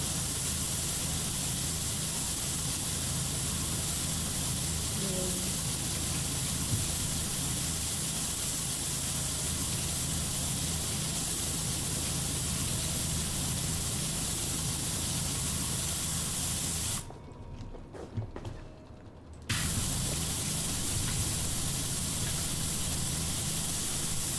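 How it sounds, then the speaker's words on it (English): A pressure washer spraying in the video game PowerWash Simulator 2 gives a constant, loud, broadband hiss that runs almost without break, cutting out once for about two seconds before resuming, with no talking over it. "Spray here and there. Bit of a spray here and there."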